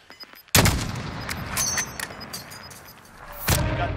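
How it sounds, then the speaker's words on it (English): Gunfire in the video game Warzone: a sudden loud burst of shots erupts, followed by rattling follow-up fire and a second sharp blast near the end, close and punchy with no talking. "I have to shoot at him."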